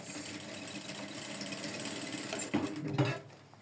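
A sewing machine hums steadily while stitching a trouser pocket, a continuous close mechanical whir with a couple of brief knocks and a slowing near the end.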